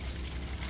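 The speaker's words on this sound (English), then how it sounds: "there's plenty of water rushing through there, which will hopefully help flush the black tank out better" Water rushes steadily through an RV sewer dump hose while the black tank is flushed, a continuous low, full gushing flow with no pauses and no voices over it.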